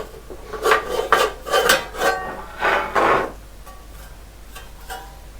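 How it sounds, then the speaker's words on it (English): A metal top cover is pried off a Riden RD6006 power supply enclosure, giving several close scraping and rasping bursts in a row before things go quiet. "in theory we should be able to pop this top cover off"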